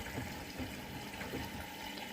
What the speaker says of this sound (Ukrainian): Так як вода вже набрана, речі мокрі, то вже зразу вода набирається.